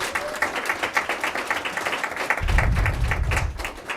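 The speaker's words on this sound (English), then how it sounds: "So just another huge round of applause to our students for their shout outs and their thanks." Applause for students at a school board meeting, rhythmic clapping from a small room of people that thickens into a fuller burst of sound midway before easing.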